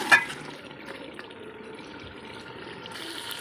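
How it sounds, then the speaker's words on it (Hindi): Water poured into chicken meat for biryani, a soft continuous trickle and splash of liquid heard close and alone for a few seconds. "अब इसके अंदर हम पानी शामिल करेंगे।"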